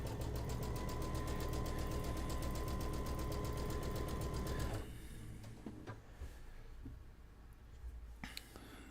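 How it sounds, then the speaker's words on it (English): Sewing machine stitching quilt fabric runs steadily and loudly with a fast, even mechanical rhythm for about five seconds, then stops, leaving quieter handling noises and small clicks. "it's probably more of an ASMR sewing machine sound than anything."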